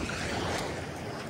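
Surf rushes steadily, a continuous wash of waves and wind noise at moderate loudness, with no voices.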